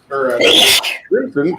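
A single sharp sneeze bursts out, with a person speaking briefly just before it and again right after.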